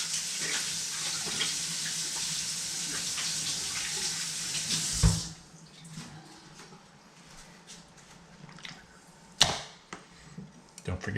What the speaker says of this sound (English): Rinse everything off, wipe it clean.